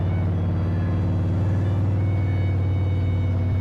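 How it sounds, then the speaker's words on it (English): A pickup truck engine in the Farming Simulator video game rumbles with a deep, loud, steady drone, close and unbroken with no talking. "Love the engine on the pickup,"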